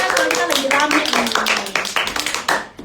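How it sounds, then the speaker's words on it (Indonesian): Studio audience at a public-speaking radio broadcast giving a round of clapping, loud and close, with distinct hand claps under ongoing voices. "Boleh kita berikan tepuk tangan lagi"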